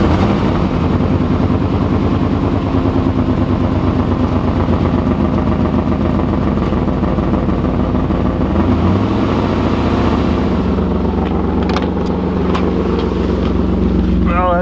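A third-generation car's tuned port injection V8 (LB9/L98) idles steadily on its own with no throttle, a loud, close, continuous low rumble with a mechanical clatter, and the pitch shifts slightly near the end.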